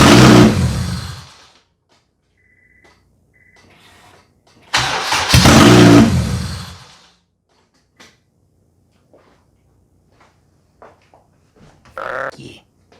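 K-swapped Honda engine with a failing ignition switch, two loud bursts of starter cranking and sputtering about four seconds apart, then quiet clicks, small knocks and a brief later burst.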